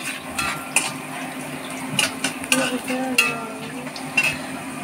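Food frying in a pan with a soft steady crackle, punctuated by scattered sharp clinks and scrapes of a utensil against the cookware.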